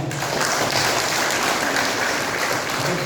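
Applause from an audience at a charity and donation event, a dense, steady wash of clapping that stays loud and even throughout without a break.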